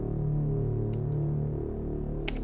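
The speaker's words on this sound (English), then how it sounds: "I have this drone note that I'm gonna add to the track." A low, sustained synth drone note plays steadily for a music track, a thick harmonic tone holding alone without talk.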